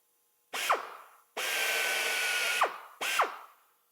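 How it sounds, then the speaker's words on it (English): A power drill whirs in three bursts, short, long, then short, each spinning up sharply and winding down as the bit cuts shallow holes 2 to 3 millimetres deep in an engine cowl. "It's only going to drill that, 2 or 3 millimetres deep."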